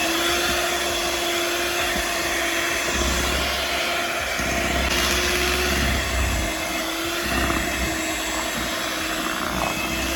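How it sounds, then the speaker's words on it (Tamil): A hand beater whirs steadily through mango cake batter, a continuous motor drone with a faint rising and falling grind as the beaters move through the mix, close and loud with no talking. "இப்போ ஒரு தடவை ஹேண்ட் பீட்டரால் பீட் பண்ணிடலாம்."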